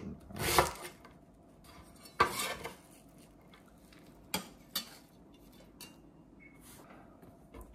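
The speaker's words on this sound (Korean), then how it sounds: "같은 크기로 썰어줍니다" Knife cutting vegetables for a pasta salad on a board, a few sharp clacks and scraping strokes spaced apart, close and fairly quiet with no talk.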